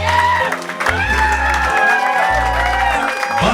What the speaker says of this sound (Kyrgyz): Кол чабалар болсун.